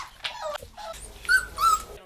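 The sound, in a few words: puppies whimpering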